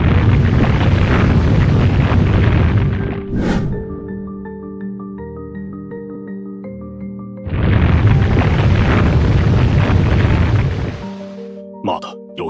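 Two loud, booming gunshots fired at a bronze ring mechanism set in a tomb wall, each blast followed by a long rumbling roar, with quiet tonal ringing between them.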